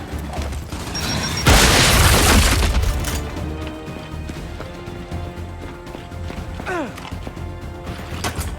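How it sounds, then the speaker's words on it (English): A frag grenade goes off in Gears 5 with one loud, close explosion blast that rumbles and decays over about two seconds, followed by debris clatter and creaking under battle ambience. "Throwing frag!"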